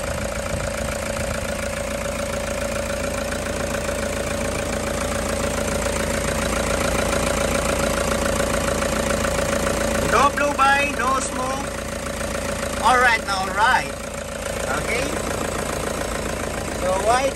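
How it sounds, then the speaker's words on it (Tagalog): A 2016 Toyota GL Grandia 3.0L with automatic transmission idles steadily up close, a constant low hum running the whole time while people talk over it in the second half. "Patalaw mo itong makina, patalaw lang."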